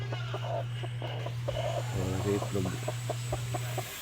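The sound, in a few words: native chicken hen brooding eggs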